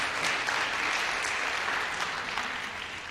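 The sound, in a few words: audience applause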